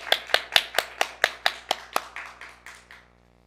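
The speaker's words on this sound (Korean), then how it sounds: "얼굴은 안 보이지만 박수로 힘차게 축하해 주시기 바랍니다." A church congregation claps in unison to celebrate members' birthdays at a Sunday service: about a dozen crisp, evenly spaced claps, fairly close, gradually fading toward the end with no talking.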